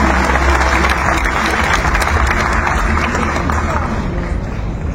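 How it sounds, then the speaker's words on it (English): Loud, sustained applause from an event audience welcoming a guest of honor, continuous dense clapping that tapers slightly toward the end. "A big round of applause, please, to welcome our guest of honor."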